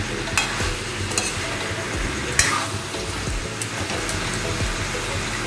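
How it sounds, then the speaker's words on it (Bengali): Water added to a pan of simmering jackfruit chicken curry produces a loud, continuous hiss and bubbling sizzle, with a few clinks and scrapes of stirring close by. "এবার সামান্য জল দেবো।"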